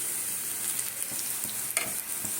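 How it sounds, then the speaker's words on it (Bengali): Jackfruit koftas fry in hot oil, giving a soft, continuous sizzle with occasional small pops and stirring scrapes at close range. "এভাবে সুন্দর করে ভেজে নেব আমি"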